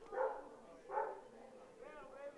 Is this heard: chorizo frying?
no